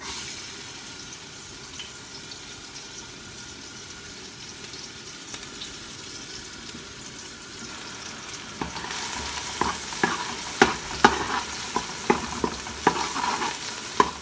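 Onion and garlic fry in a pan with a soft, steady sizzle that grows louder midway, joined by repeated close clinks and scrapes of stirring; no talking.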